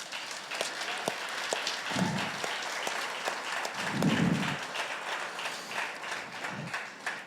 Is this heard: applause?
yes